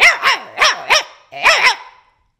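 A voice imitates a small dog barking, six quick yappy barks in two bursts, close and loud, followed by silence.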